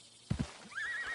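A spooked white horse in a video game lets out a short snort, then a shrill, wavering whinny, near and fairly loud, lasting about a second.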